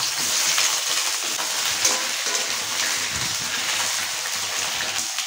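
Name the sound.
eggplant slices frying in hot oil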